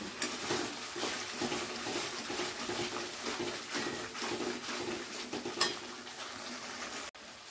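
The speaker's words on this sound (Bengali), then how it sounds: "টমেটো পেস্টটা দিয়ে ততক্ষণ নাড়তে হবে যতক্ষণে না মশলা থেকে ভালো করে তেল ছাড়ছে" Tomato paste and spices cook in a pan while being stirred, giving a quiet continuous sizzle with soft scraping and occasional clinks of a utensil, fairly close but low in level.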